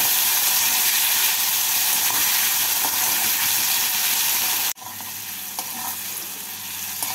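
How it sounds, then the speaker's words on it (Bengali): Tomato stirred into potatoes frying in a pan for a fish curry with lentil dumplings, a steady loud sizzle and hiss throughout, briefly cut off near the end before resuming slightly quieter, with faint scrapes of stirring. "টমেটো দিয়ে টমেটোটাকে আলুর সাথে নাড়াচাড়া করে নেব।"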